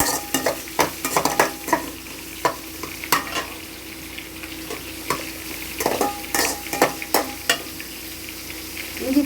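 Chicken kola urundai sizzle in a pan while a utensil stirs them, giving a steady crackling fry punctuated by frequent sharp scraping clicks and taps.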